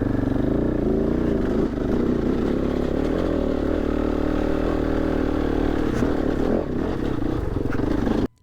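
Enduro motorcycles during a rally day in the mountains, their engines droning and rumbling steadily nearby, one rising and passing as the drone continues.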